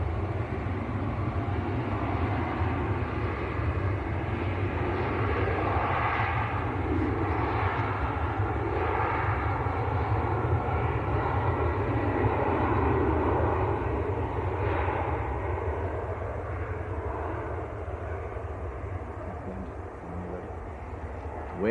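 Finnair airliner bound for Helsinki at Manchester Airport, a broad steady jet engine roar that holds loud for a long stretch and eases slightly toward the end, with no talk.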